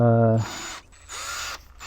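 A small bit drilling a screw hole into a shotgun prop for a Joel Miller cosplay from The Last of Us, heard as a short grinding whir in two bursts after a brief low hum, close and moderately loud.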